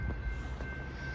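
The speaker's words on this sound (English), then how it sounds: "we got a train coming with a caboose, also known as a shoving platform" A passing train with a caboose on snowy tracks in Hamilton, Ohio rumbles steadily with a low rolling roar and faint rail clatter, moderately distant and without talk.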